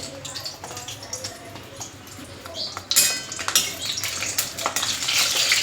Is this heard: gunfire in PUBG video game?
no